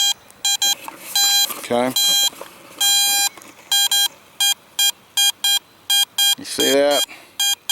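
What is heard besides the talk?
metal detector signal tone over a target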